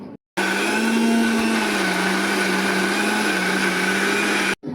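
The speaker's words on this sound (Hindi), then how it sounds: "फिर मैंने ये ग्रेवी चढ़ा दी थी इधर पीसने के लिए।" A loud, steady motor whine of a mixer grinder grinding gravy paste, running continuously, with a brief cut at the start and end.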